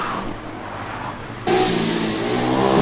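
A Formula Student race car on track during an endurance event whines steadily at high revs, and the engine note suddenly becomes louder and brighter partway through as the car comes nearer, with a continuous buzzing tone.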